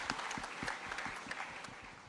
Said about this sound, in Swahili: Tumpigie huyu mungwana makofi jameni